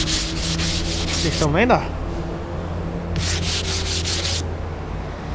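Used sandpaper rubs dry over car primer in two bursts of brisk back-and-forth strokes, close and scratchy, separated by a short pause where a voice speaks over a steady background hum.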